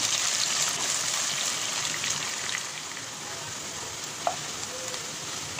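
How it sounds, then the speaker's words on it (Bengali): Onion, garlic and dried chili frying in oil make a continuous dense sizzle close by, with a brief clink of a utensil partway through and no voices. "এখানে এতে লালচে করে ভেজে নেব"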